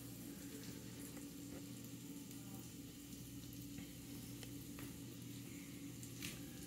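Garlic sizzles in a hot cast iron pan at low volume, a steady faint crackle with a low hum underneath and no voices.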